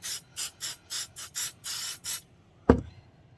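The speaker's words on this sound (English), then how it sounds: "I'm just using a bit of 505 spray because that's what I've got at hand." Close, loud bursts of 505 spray adhesive hiss out in a quick series of short pulses, then a single sharp knock as the can is set down.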